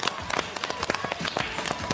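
An audience on a Beijing TV dating show claps to welcome a woman guest onto the stage, a brief burst of dense, lively applause.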